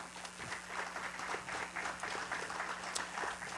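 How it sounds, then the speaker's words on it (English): A crowd at a lakeside festival opening ceremony applauds, a diffuse, distant-sounding patter of many hands held at an even level under a faint steady hum, with a few louder claps standing out. "Can we please give them a round of applause?"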